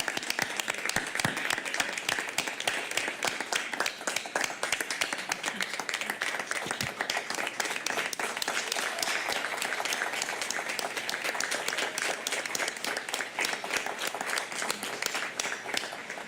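A crowd at a school board meeting claps steadily in sustained applause for retirees that holds at an even, full level throughout, with no break.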